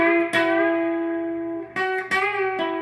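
Electric guitar plays a short phrase of a song with a slightly distorted, effected tone: a long held note, then several quick picked notes, loud and unaccompanied.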